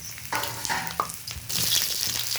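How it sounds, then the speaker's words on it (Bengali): Sliced ridge gourd frying in a little hot oil, a bright sizzle broken by several stirring scrapes and knocks, the hiss swelling louder toward the end, close and with no talk. "ভালো করে নেড়ে চেড়ে 3-4 মিনিট মতো আমি এই ঝিঙেগুলোকে ভেজে নেব।"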